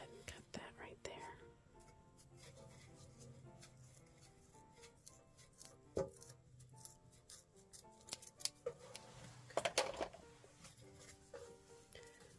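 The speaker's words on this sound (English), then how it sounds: "Let's go ahead and cut that right there." Scissors snip through a jute hanger in quiet, close, intermittent cuts with soft rustling handling noises, faint and unhurried, for a rustic galvanized butterfly sign craft.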